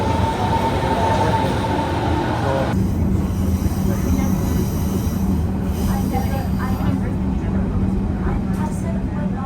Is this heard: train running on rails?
yes